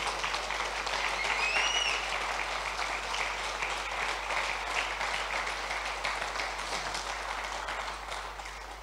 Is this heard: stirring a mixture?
no